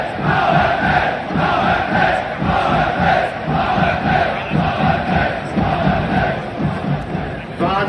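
Football crowd at the Allianz Arena in Munich chanting and cheering, a dense, steady roar of many voices with rhythmic chant pulses throughout.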